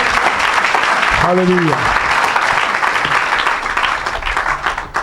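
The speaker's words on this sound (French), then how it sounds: "Come on, come on, acclame, acclame." Church congregation applauding loudly and continuously throughout, a dense wash of clapping and cheering with voices calling out over it.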